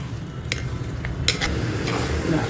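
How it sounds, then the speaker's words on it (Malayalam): Kadai chicken masala sautéing in oil, a close low sizzle with a few brief scraping clinks of a utensil stirring the pan. "വഴറ്റുക"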